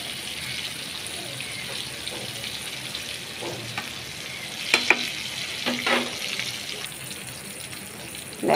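Slices of ash gourd (jali kumra) frying in oil in a pan, a steady hiss of frying with a few sharp clinks and scrapes as pieces are turned, close by with no talking.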